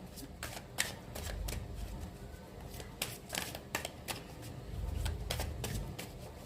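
Tarot cards being shuffled by hand, a soft continuous riffle with repeated crisp snaps and flicks, close and quiet.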